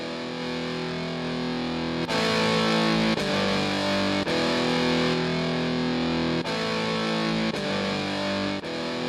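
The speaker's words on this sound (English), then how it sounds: "we can add extra distortion" A heavily distorted thrash metal guitar riff from an iOS punk music generator app chugs in loud, repeating chord blocks with sharp restarts every second or so, alone with no talking.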